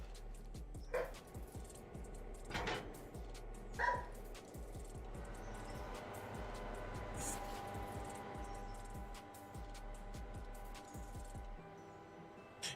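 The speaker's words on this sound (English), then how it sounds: "He doesn't even know what the fuck he's barking at." A dog barks indoors in a few short, separated bursts at moderate distance, with quiet room tone in between.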